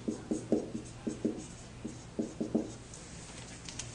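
Chalk or marker strokes on a board during a chemistry lecture about nucleic acid sugars, a quick run of short scratchy taps in irregular rhythm, fairly close and alone without talk.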